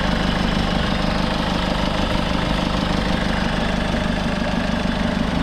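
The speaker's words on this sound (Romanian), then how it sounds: "Așa sună acest motor." A Peugeot 207 2006 1.6 HDI 16-valve 90 hp diesel engine idles steadily up close, a continuous low rumble with a fine knocking rattle and no other sounds.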